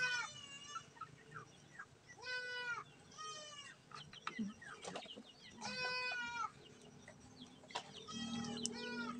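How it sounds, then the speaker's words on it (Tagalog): Small backyard chickens clucking and chirping in short repeated bursts while drinking from water balls, several birds close by, with faint talk now and then. "May inom nga manok"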